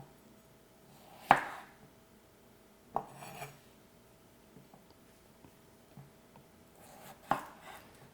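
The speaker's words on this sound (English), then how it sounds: "So then I'll slice these in half" Fingerling potatoes being sliced in half with a knife on a cutting board: three distinct sharp chops spaced a few seconds apart, with faint quiet handling in between.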